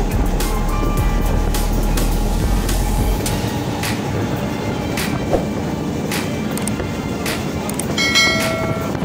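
A local train running from Lakshmikantapur towards Namkhana, a loud continuous rumble of wheels and carriages with rhythmic rail clatter and a few sharp metallic squeals near the end.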